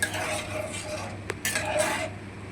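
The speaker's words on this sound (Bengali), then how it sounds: "ঠিক এরকম ভাবে শুকনো শুকনো করে মিশিয়ে নিতে হবে পুরো ডালটাকে।" A spoon stirs and scrapes split pea dal mixed with jaggery in a pot, with soft clinks and a sharp knock against the rim amid steady close kitchen noise.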